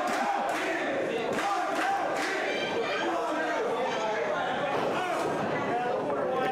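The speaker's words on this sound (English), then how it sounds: "Crowd is rabid for Gary J, and that absolutely helped pull him through" Wrestling crowd at an indoor independent show roars continuously, a dense wash of cheering and shouting with scattered louder yells across the whole stretch.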